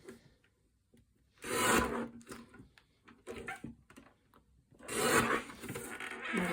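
Cardstock for cardmaking is trimmed close by, with two long scraping, rasping passes of a blade through the card separated by softer handling noises and taps.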